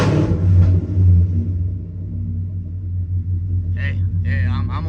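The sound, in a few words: custom car engine revving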